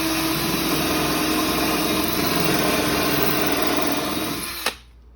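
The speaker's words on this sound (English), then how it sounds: "Now, when you're drilling into brick" A power drill drilling into brick whines continuously at full speed, loud and close, then cuts off abruptly near the end, leaving near silence.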